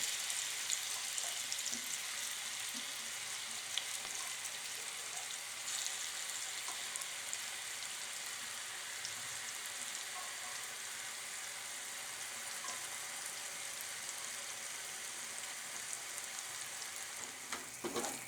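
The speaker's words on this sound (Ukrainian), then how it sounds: "Викладаємо наш гриб печінку на розігріту пательню з олією." Beefsteak fungus, a liver mushroom, fries in hot oil in a pan, giving a steady, quiet, close sizzle that continues unbroken with no voices.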